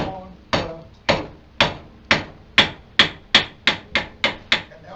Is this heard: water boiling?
no